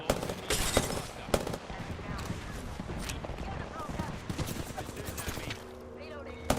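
Rapid bursts of video game gunfire while the player is under fire, dense crackling shots continuing through most of the stretch with a voice talking over it.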